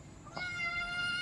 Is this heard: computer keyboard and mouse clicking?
no